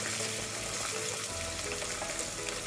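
Boneless chicken pieces frying in hot oil for chicken fried rice, a steady close sizzle and crackle running without pause, with no voices over it.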